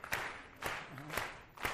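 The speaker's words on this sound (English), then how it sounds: "And now you go up there on your finger and get the tenor clap." Audience members clap on their fingertips for a light tenor clap at an old-time folk music concert, four sharp evenly spaced claps about half a second apart, moderately distant with a faint hum between them.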